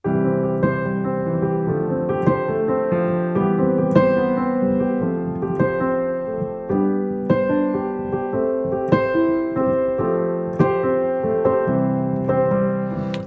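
Solo piano improvises a rough flowing passage of chords spiced with added power chords, played continuously with frequent accented strikes and no talking.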